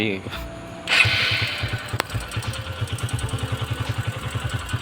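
A motorcycle engine runs close by after a short burst of noise, settling into a quick, even thumping beat that holds steady to the end.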